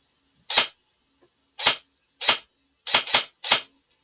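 Six sharp, snappy shots from a Double Eagle M904E electric airsoft gun, fired singly at uneven intervals, with two coming in quick succession near the end.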